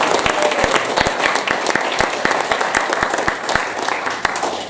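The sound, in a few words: audience round of applause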